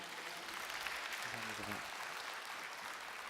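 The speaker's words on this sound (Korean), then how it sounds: "여러분 다시 한번 큰 박수 부탁드리겠습니다" An auditorium crowd at a leadership conference claps in a continuous, even round of applause, with a brief low voice sounding under it midway.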